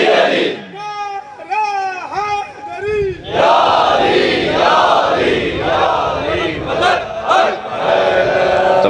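Crowd at a majlis, a Shia mourning gathering, chanting religious slogans in unison, loud massed voices rising in repeated call-and-response waves, with a lead voice at the start.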